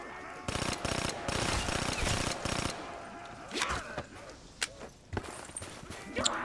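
Rapid bursts of gunfire from a gun in Call of Duty Black Ops 3 Zombies, a dense volley for about two seconds followed by scattered, sharper single shots and game effects.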